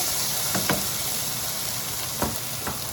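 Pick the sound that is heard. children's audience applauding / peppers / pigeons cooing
peppers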